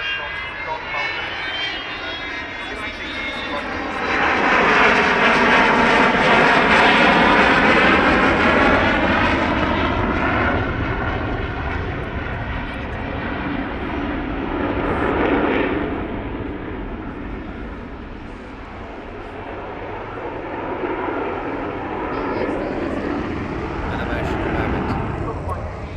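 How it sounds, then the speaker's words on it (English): Jet engines of an Avro Vulcan bomber roar during fast taxi runs along the Dunsfold runway, a loud, broad rumble that swells and fades as the aircraft passes, with people talking over it. "Fast taxiing up and down the runway, but she, of course, will not be able to fly."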